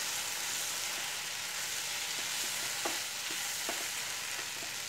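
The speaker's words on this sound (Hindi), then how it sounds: "और 2 मिनट फ्राई करूँगी।" Ground soybean keema fries with masala in a pan, a steady close sizzle broken by several soft scraping stirs of a spoon, with no talk.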